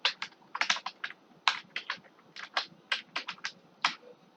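Computer keyboard typed on in quick, irregular clusters of crisp clicks, close up and alone.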